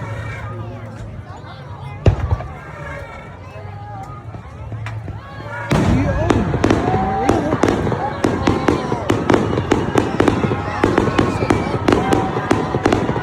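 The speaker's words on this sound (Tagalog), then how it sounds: "Maraming fireworks." Independence Day fireworks crack and pop repeatedly, sharp bangs coming in quick irregular clusters, with people's voices mixed in.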